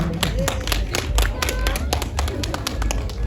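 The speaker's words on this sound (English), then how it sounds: "Please clap for her." A crowd at a New Year 2025 performance in a cafe in Bir claps in a brisk, uneven patter of many hands, continuing steadily from start to finish.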